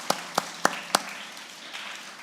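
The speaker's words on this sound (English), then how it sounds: "Let's give all the grade sixes a big round of applause" A handful of sharp, separate claps from an audience after grade six speeches at a middle school speech final. Four quick claps ring out close together, then the room falls to a low, quiet hum.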